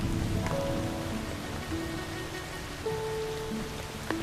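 Light rain falling steadily, a soft even patter on surfaces heard alone, with a few faint tonal notes drifting over it.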